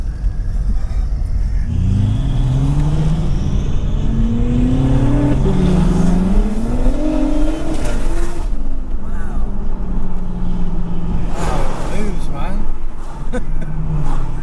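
A 560 BHP BMW M135i revs hard and accelerates, its engine note climbing through rising pulls with a loud, continuous rumble while people talk and react over it.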